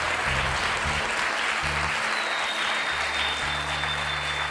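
A church congregation applauds steadily, a dense wash of clapping filling the space alongside a low sustained organ or keyboard tone and a faint high whine.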